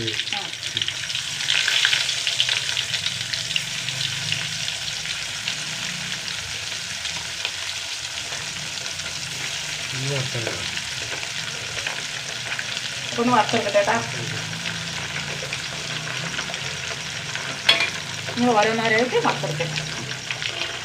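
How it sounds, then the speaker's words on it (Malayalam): Steady oil sizzle and frying crackle throughout, with occasional clinks of a utensil stirring in the pan and brief bursts of louder spatter. "ഓരോന്നല്ല രണ്ട് പ്രാവശ്യത്തിൽ വറുത്തെടുക്കണം"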